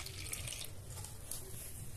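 Warm water runs and pours steadily into a bowl during home baking prep, a continuous close splashing stream with no talk over it.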